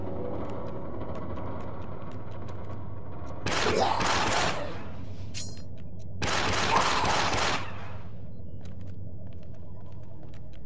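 Shotgun fire in the video game Star Wars: Republic Commando, two loud blasts about two seconds apart, each ringing out for roughly a second over a low ambient hum.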